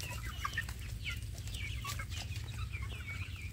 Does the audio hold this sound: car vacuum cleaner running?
no